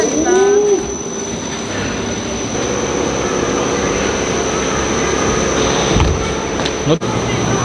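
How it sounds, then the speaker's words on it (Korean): Exhibit train at the National Gwacheon Science Museum gives off a steady, loud rumbling mechanical drone with a high whine, a rising squeal near the start and a sharp clunk toward the end, with people talking throughout. "기차. 기차 맞지?"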